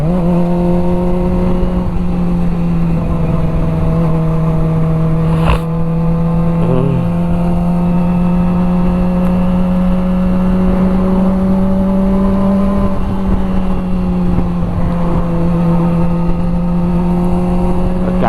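A Kawasaki ZX25R motorcycle accelerates to overtake a car, its engine a steady high-pitched whine close up with wind rush, pitch climbing and shifting through gears.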